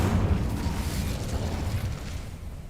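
A burst of fire from the Incendio spell in Hogwarts Legacy, a loud whooshing, rumbling blast that holds steady and then slowly fades, with no talking.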